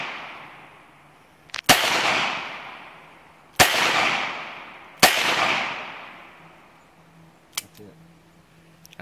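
Three loud, sharp gunshots from a Smith & Wesson M&P Bodyguard .38 Special revolver, each cracking close by and ringing out into a decaying echo, followed by a fainter metallic click near the end.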